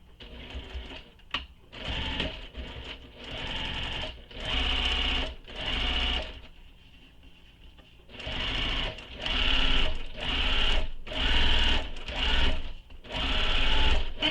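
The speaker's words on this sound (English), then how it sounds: "So you're going to sew along that edge using the seam allowance given in the pattern." Sewing machine stitching a backpack seam, running in repeated bursts of rapid rhythmic clatter with short pauses between, close and loud.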